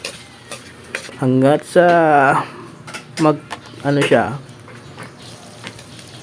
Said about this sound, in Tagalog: hinalo-halo na po natin ang ating tinapa